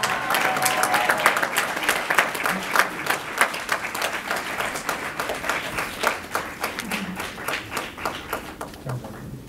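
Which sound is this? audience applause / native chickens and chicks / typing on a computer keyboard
audience applause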